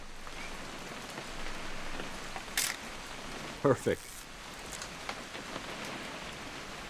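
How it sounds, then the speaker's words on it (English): Rain falls steadily in the video game What Remains of Edith Finch, a constant soft hiss with a few sharp clicks and knocks, while a voice speaks briefly over it. "It's gonna rain the whole weekend,"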